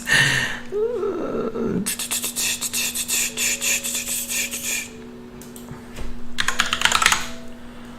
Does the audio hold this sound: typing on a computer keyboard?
yes